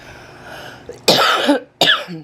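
Two sharp coughs close to the microphone, one after the other, following a quiet moment.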